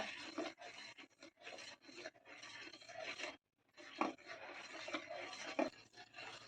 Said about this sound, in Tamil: கைவிடாமல் கரண்டியால் அப்படியே கிண்டிக்கிட்டே இருக்கணும் பாலை